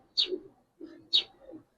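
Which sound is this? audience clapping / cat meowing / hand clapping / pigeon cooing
pigeon cooing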